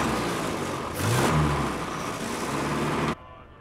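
A car engine rumbles loudly up close and revs as the vehicle pulls away, then cuts off abruptly.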